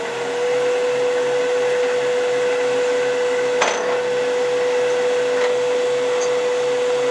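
A tool-care machine spins up toward about 3,000 RPM, giving a steady, loud motor whine with a constant pitch that runs the whole time, plus one brief sharp knock near the middle.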